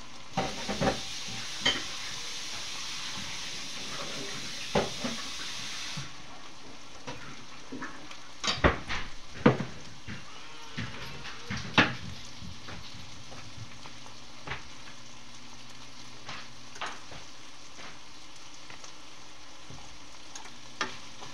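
Food sautéing in a hot pan, with steady sizzling and frying and repeated sharp scrapes and clatters of stirring spread across the whole stretch; a louder hiss at the start eases after the first few seconds.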